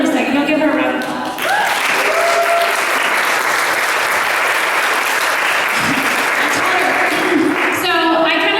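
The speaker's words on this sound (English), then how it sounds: "You'll give her a round of applause." A live audience at a retail skills and leadership training event breaks into loud, sustained applause that fills nearly the whole stretch. It rises quickly after a short lull and holds steady, with a voice heard at the start and end.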